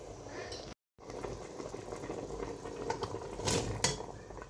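A pot bubbles and simmers steadily on its own, a soft continuous boil with gentle popping, close by and fairly quiet.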